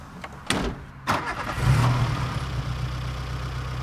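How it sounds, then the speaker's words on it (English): Car engine from a soap drama scene, recently repaired, rumbling low and steady after a couple of sharp knocks, fairly close and alone without talk. "Listen to that engine."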